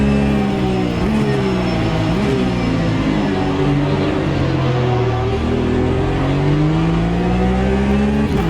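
Race car engine in the racing game Automobilista 2, a loud, steady drone that climbs and drops through repeated gear changes as the car is pushed hard around the track, with no voices.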